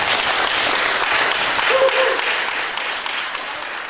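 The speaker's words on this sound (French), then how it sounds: "Veuillez applaudir M." Audience applause for a speaker being introduced at a gathering of the Congolese community in Belgium, steady dense clapping that holds for a few seconds and then starts to thin out, with a brief tonal sound in the middle.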